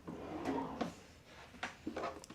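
A drawer slides open and shut inside a cruise ship stateroom aboard Celebrity Apex, giving a few soft wooden knocks and scrapes at close range with no talking.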